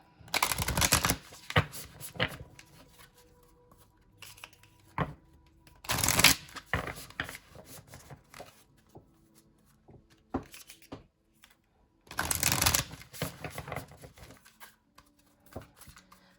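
Oracle cards from a healing mantra deck are shuffled before a reading, in three loud, crisp riffling bursts separated by softer scattered card taps and slides, with no talking.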